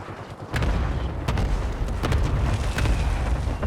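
Cluster strike explosions in a video game, a series of heavy booms landing one after another in a continuous, rumbling barrage.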